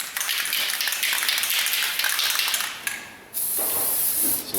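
Fluid Film aerosol sprays onto a new Jeep Compass/Patriot rear wheel bearing in a steady hissing burst lasting a few seconds, briefly stopping, then resuming close by.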